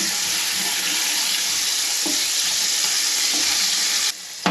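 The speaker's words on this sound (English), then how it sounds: "So we're going to add a spoonful of ginger garlic paste. And this is going to start splattering really fast." Ginger garlic paste hitting hot oil with cumin and mustard seeds, a loud dense hiss of spattering that holds steady close up and then cuts off abruptly near the end.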